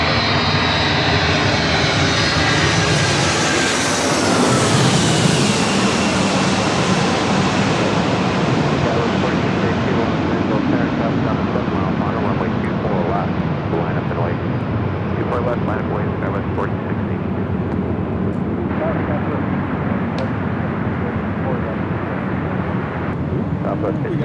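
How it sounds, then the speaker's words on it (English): A jet airliner roars loudly overhead as it goes around at LAX runway 24 left. The engine noise swells and then slowly recedes into a broad, sustained rumble, and voices talk faintly underneath. "We're gonna go around."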